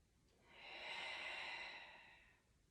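A slow, audible exhale during a pilates exercise, a single breathy out-breath that swells and fades over about two seconds, close and fairly soft, with no talking.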